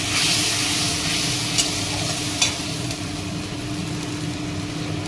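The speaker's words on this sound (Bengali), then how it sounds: "আমি এই জলে এই তেলের মধ্যে পুরো মশলাটা ছেড়ে দিলাম" A spice mix sizzles in oil and water in a pan, a constant hissing fry that stays steady and close, broken by a couple of faint clinks and with no talk.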